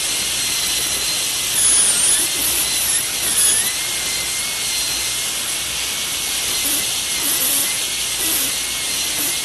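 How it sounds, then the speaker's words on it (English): A high-speed dental handpiece with a carbide bur cuts the buccal surface of a tooth while preparing it for a full cast crown. It gives a steady, loud, airy whine with a faint high tone drifting over a constant hiss, and no one speaks. "a portion of the carbide remains visible beyond the surface which is being cut"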